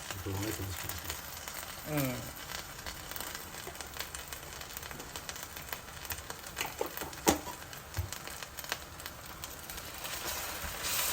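Onions fry with ginger garlic paste in a pan for a bachelor-style chicken gravy curry, a faint steady sizzle with occasional stirring scrapes while someone talks nearby.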